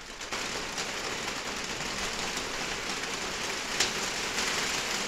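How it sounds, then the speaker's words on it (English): Steady rain falls outdoors as a soft, continuous hiss of drops, moderately quiet and unbroken throughout, with no voices. "it's really raining, isn't it?"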